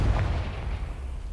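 A Confringo fire spell from Hogwarts Legacy lets off one loud, deep boom that rolls into a short rumbling decay.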